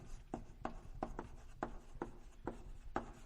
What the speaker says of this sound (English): I'll just write ABA